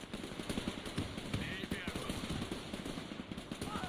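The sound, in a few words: machine gun firing in video game Men of War 2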